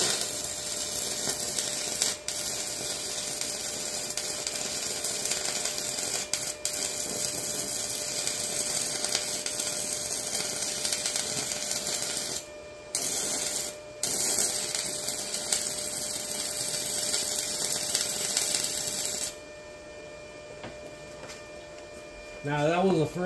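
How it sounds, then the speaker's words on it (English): An Arccaptain Arc160 stick/TIG welder running an arc gives a steady, close buzzing hiss that drops out briefly twice midway, then the arc stops near the end, leaving only a low hum. "Now that was the first weld I did there."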